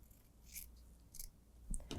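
Scissors trim fabric for a quilted hot pad in a couple of quick, close, quiet snips, with soft fabric rustling between the cuts.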